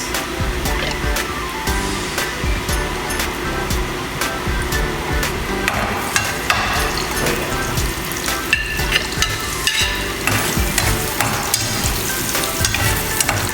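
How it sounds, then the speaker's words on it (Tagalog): Garlic, onion and ginger sauté in a hot pan as bangus steak is prepared, giving a loud, steady sizzle with frequent sharp clicks and scrapes of stirring throughout. "igisa lang natin yung bawang, sibuyas at luya"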